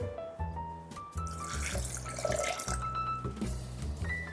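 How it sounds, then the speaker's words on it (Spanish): Water poured into a blender jar of peeled lupin beans while making vegan gruyere-style cheese, a soft continuous splashing pour, quiet and close. "Voy a agregar el agua."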